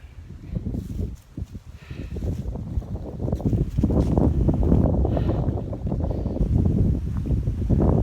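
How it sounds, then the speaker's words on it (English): Gusty wind buffets the microphone outdoors on a walk among trees, a loud, rumbling low roar that rises and stays strong throughout, with faint footsteps underneath. "I've got a feeling that this is going to be a really noisy video with the wind."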